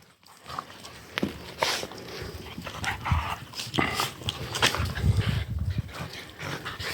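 Several dogs bark and growl repeatedly at close range, overlapping in a rough, continuous commotion.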